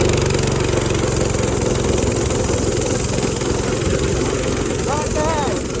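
A homemade jalopy go-kart engine idles right beside the driver, a steady rumbling drone throughout, with a brief rising whine near the end and some background talk mixed in.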